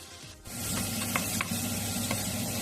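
Pork fat (salo) starting to fry in a pan on a home stovetop, a steady close sizzle with a few light clicks and pops, no talk.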